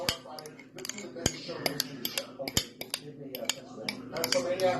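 A spoon clatters and clinks against a bowl while cabbage coleslaw is mixed with mayonnaise dressing, giving close, irregular sharp taps and scrapes in quick succession.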